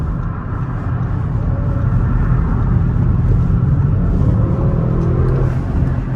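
A Ferrari drives past, its engine a steady, loud rumble that builds slightly and holds for several seconds with no voices over it.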